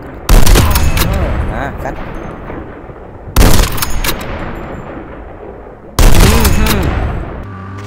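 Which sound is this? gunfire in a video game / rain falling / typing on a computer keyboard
gunfire in a video game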